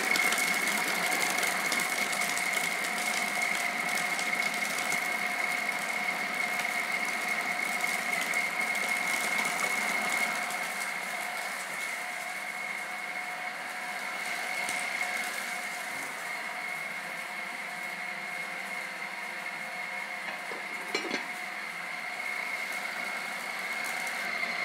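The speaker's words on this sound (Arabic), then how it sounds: "نرجع نطحن." An electric grinder minces meat in a kitchen, a steady continuous motor hum with a constant whine running throughout, easing slightly partway, heard alone without talk.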